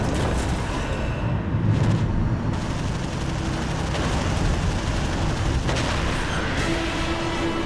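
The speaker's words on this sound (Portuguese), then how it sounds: "dispara uma rajada com um canhão de 30 milímetros" A fighter jet's 30 mm cannon fires a heavy, rapid burst that roars densely and continuously, booming and rumbling with little break.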